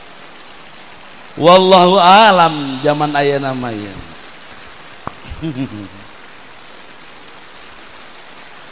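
Steady rain falls during an Islamic sermon in Sundanese, a constant hiss of rainfall under someone speaking. The rain continues alone in the pauses between his words.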